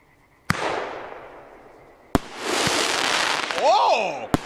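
Heavy-caliber golden falling-glitter fireworks from Pyromoravia fire with two sharp booming launches, each followed by a long, dense crackling shimmer, and an excited voice rises over the sparkle near the end.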